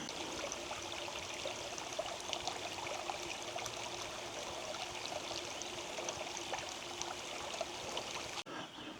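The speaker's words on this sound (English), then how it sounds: "You can hear this little tributary, I'm assuming, right here." A small creek tributary flows steadily nearby, a soft continuous babble and trickle of water with no voices.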